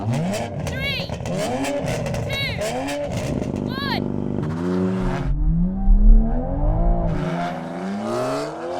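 A sports car engine revs hard and close at a drag race, its pitch sweeping up and dropping through quick gear changes as it launches off the line and accelerates.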